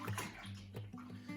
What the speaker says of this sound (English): we're just going to pour this SCOBY right out into that jar